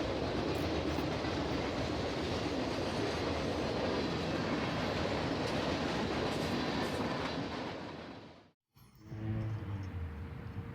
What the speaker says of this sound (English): this brand new Metro passenger locomotive was being taken to Chicago aboard this fast-moving